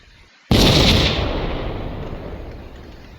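A siege gun from the Rusty Shell mod in Vintage Story fires one booming shot, a sudden loud blast that rolls into a long fading rumble, heard alone with no talk.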